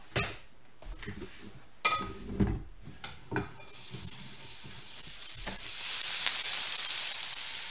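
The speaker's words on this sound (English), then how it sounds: "Listen to that sizzle." Oyster cakes frying in a pan: quiet sizzling with scattered clanks and scrapes of a utensil against the pan, then the hiss swells louder and steadier near the end, with no talking.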